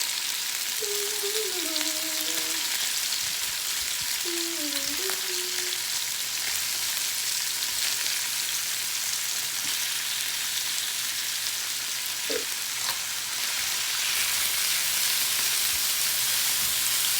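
Thinly sliced teriyaki pork fries in a pan with a steady, broadband sizzle that runs unbroken throughout, close and fairly loud, with a few faint tonal squeaks and light clinks in the first seconds.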